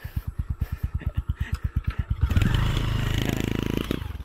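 Motorcycle carrying a rider and passenger across pasture farmland, its engine thumping in a steady pulsing rhythm close by, then revving up into a louder continuous roar as it pulls away.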